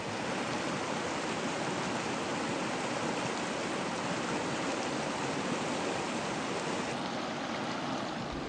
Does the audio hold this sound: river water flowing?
yes